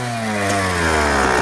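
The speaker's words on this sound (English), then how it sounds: "It has the 124cc two-stroke engine, carbureted, 6-speed transmission." A 2001 Yamaha YZ125 carbureted 124cc two-stroke motorcycle engine runs close and loud with a buzzy, steady drone that rises slightly in pitch as it revs up a little.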